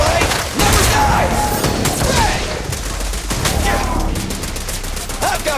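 Rapid automatic gunfire and bursts of shots in the Zenless Zone Zero action game during the "Virtual Revenge" story, dense and loud throughout with booming impacts and brief voice callouts mixed in.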